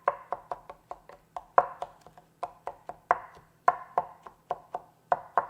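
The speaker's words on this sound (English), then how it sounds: "Just breaking up some of that brown sugar." Clumpy brown sugar being broken up, a run of about twenty sharp, dry crunching taps in an uneven rhythm, close and fairly quiet with no voices.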